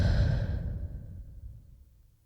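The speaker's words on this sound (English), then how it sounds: "Let's take a breath." A slow, deep exhale during a guided breathing exercise, one long airy breath close to the microphone that fades gradually into quiet, no speech.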